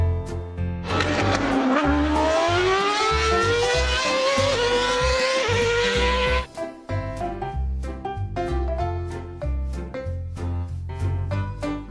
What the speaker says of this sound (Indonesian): Mobil balap Formula One.